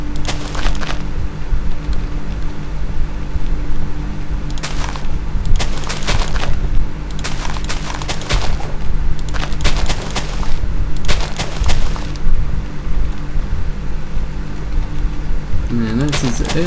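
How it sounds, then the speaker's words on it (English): TNT cannon blowing itself up in Minecraft, heard as a string of loud explosive bursts in clusters over a steady mechanical hum, with talking mixed in. "TNT landing on inactive TNT, and you watch your entire cannon go boom"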